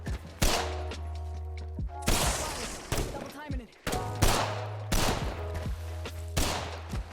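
Apex Legends gunfire cracks out in loud, repeated bursts of rapid shots with short gaps between them, close and sharp, and game effects and clatter mixed in between the volleys.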